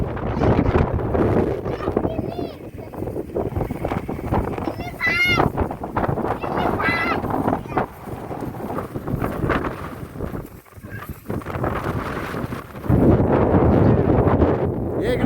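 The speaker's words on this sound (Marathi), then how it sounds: "एवढी बेकार हवा सुटलेली ना" Strong wind gusting across an open plateau at Shirsatwadi, roaring and buffeting the microphone in loud, uneven bursts, with people talking through it.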